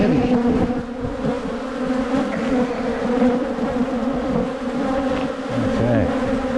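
A loud, dense swarm of honey bees buzzes steadily around open hives during an inspection at a ranch's bee huts, a continuous close droning with no talk.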